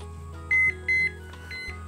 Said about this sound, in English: our alarm's going off